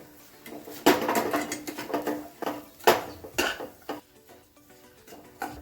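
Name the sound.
mixing churma with coconut, raisins and fried gum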